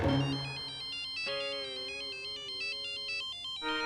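A phone ringtone plays a bright, repeating electronic melody of clear tones, sounding alone and fairly close in a family sitcom home scene.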